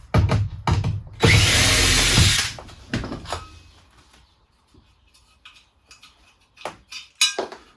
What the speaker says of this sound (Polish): Na razie łapię na blachowkręty, a później dopiero będę to nitował.